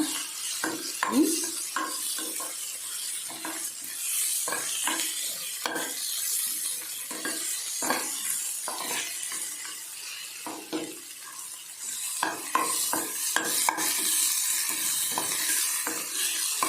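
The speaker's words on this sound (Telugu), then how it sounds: "ఇవన్నీ బాగా వేగుతున్నాయి అన్నమాట." Sprouts frying in a pan for breakfast: a constant soft sizzle close by, broken by repeated scraping stirs and light clinks of the utensil against the pan.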